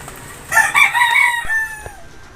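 A grey Hennie gamefowl rooster crows once nearby, a loud drawn-out call with a trailing cluck at the end.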